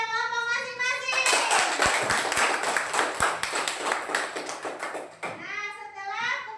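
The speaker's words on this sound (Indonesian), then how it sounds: "silakan berikan aplaus kepada kelompok masing-masing" Students applauding their groups in a classroom, a burst of many hands clapping for about four seconds, framed by children's voices talking before and after.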